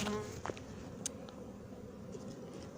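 Honey bees buzz steadily during the hiving of a swarm, a dense, fairly quiet drone of many insects close by, with a few small clicks and taps.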